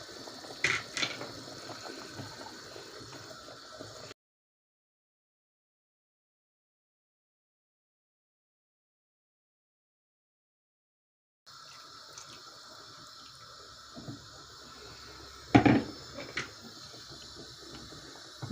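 Water and flour poured into a pot of Moroccan harira soup with cooked meat and chickpeas, a running, splashing liquid sound with a few sharper clinks, broken by a long stretch of silence partway through.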